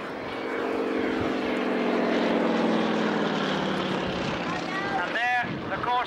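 A Corsair propeller fighter chasing a Zero at an air show roars overhead, a loud sustained drone that swells and slowly shifts pitch as it passes, with a wind-buffeted rumble and a brief sharper sweep near the end.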